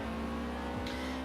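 A naturally aspirated Acura RSX in Forza Horizon 4 holds a steady, quiet engine drone with a strong buzzing tone. The pitch and texture shift partway through as it climbs toward its 8,000 RPM redline.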